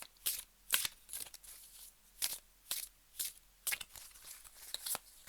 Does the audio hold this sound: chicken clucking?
no